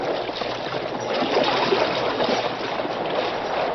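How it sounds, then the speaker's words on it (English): Steamboat paddle wheels churning river water into foam as a radio drama effect, a steady loud rushing wash with no talking. "The mighty paddle wheels whipped the water into white foam."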